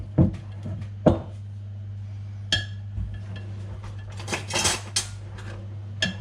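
Fork clinking against a bowl while beating Yorkshire pudding batter, a handful of sharp metallic taps and scrapes spread irregularly over a quiet kitchen hum, close and fairly soft.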